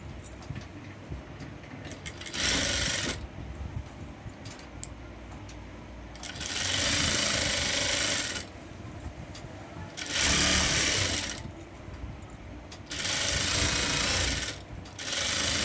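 Electric sewing machine stitching along the edge of a farshi shalwar to hold the buckram in place, running in four steady whirring bursts separated by quieter pauses, fairly close and without talk.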